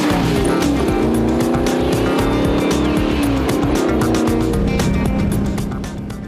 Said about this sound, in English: indulge in the growl of the 8-cylinder beast under the bonnet?